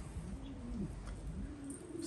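Domestic pigeons in a Syrian loft coo with low, soft rolling calls, steady and close, under a constant background hum.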